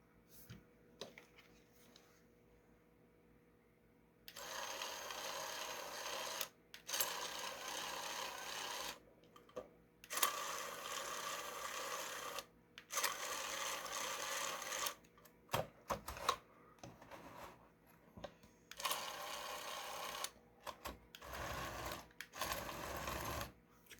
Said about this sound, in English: I'll show the tracks running up close.